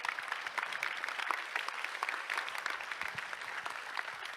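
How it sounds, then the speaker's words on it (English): Audience clapping at an innovation conference session, steady and moderately distant, a dense patter of many hands that holds evenly throughout without voices over it. "A round of applause, please, for this result"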